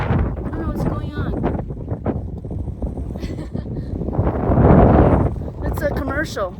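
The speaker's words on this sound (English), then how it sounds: "It's so windy now." Gusty wind at a volcano national park on Hawaii's Big Island roars against the microphone, swelling to a heavy blast midway, with a person talking throughout.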